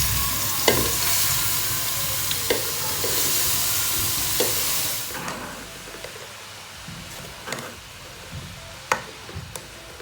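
Oil sizzles in a pan as carrot halwa is cooked, with a loud frying hiss for the first few seconds that then settles, punctuated by clinks and scrapes of a spoon stirring against the pan.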